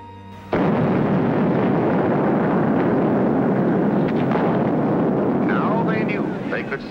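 Aerial atomic bomb test explosion in the Nevada desert, opening with a sudden loud blast that becomes a long, heavy, sustained roar, with crackling bursts toward the end.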